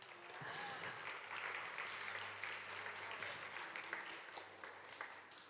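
A church congregation claps together in sustained, dense applause filling the room, with a low steady hum and murmuring voices underneath throughout.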